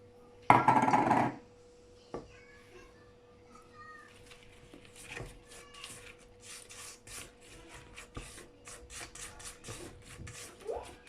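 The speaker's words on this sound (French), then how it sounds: "Juste quelques coups de spatule" A spatula working softened butter into flour in a bowl, a loud scrape at the start followed by a series of soft, irregular rubbing and scraping strokes, close and quiet.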